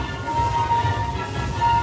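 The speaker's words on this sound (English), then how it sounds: "For your safety, please stay seated while the train is moving" Ride train at Disneyland Paris rolling along its track, a steady rumbling roll with a faint tonal hum, close and continuous, ending in a brief sharp burst of noise.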